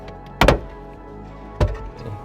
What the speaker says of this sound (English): we just need to pry the rest of the housing down